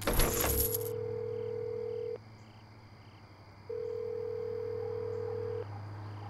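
Inside the video game Road 96, a coin clinks into a phone box, then a steady dial tone hums in two long stretches with a short gap between, loud and close with no talk.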